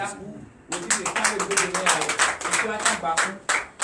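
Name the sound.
congregation applause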